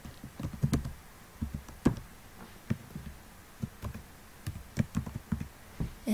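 A computer keyboard is typed on in short bursts of quiet, close clicking keystrokes with brief pauses between words.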